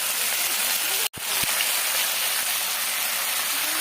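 Bottle gourd greens go into a hot pan with panch phoron tempering and fried vegetables, giving a steady, close hiss of sizzling broken only by a brief gap and a couple of soft knocks.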